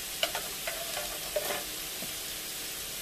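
Steady sizzling of shallots frying in a pan, with a few light scrapes and stirs, no voices.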